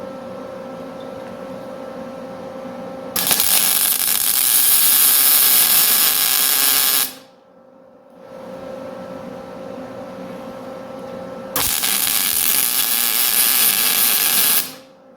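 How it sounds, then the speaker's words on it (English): Arc welding on a John Deere 830 industrial radiator during an overhaul: two long, loud, crackling hiss bursts of roughly four and three seconds, with a quieter steady hum between them and no talking. "Let's try welding this on."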